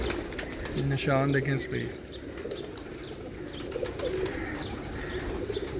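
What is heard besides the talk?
slate pigeons cooing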